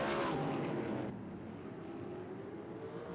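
Race cars lap at the 2005 Pay Less/Remy International Little 500, a loud roaring rush of engines sweeping past that drops after about a second into a steady, more distant drone.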